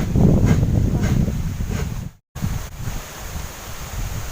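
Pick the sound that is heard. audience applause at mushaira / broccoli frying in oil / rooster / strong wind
strong wind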